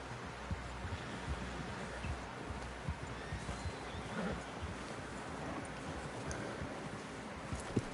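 Horse hoofbeats clip-clopping steadily from Red Dead Redemption 2, in a busy outdoor scene with rustling movement and background noise, voices faintly mixed in.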